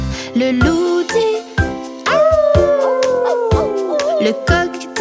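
A wolf howl in a French children's song rises and then slides down in a long, wavering cry, close and loud over bouncy music.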